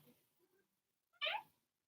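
A house cat lets out one clear, fairly loud meow partway through, after a few soft low murmurs and quiet stretches.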